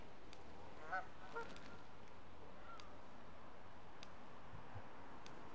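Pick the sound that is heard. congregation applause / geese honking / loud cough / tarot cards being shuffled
geese honking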